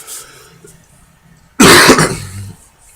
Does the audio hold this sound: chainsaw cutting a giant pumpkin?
no